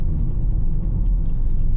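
A 2015 Honda HR-V S with CVT driving over a paving-block road, heard from outside: a loud, steady low rumble of tyres and engine, continuous and close, with no voices.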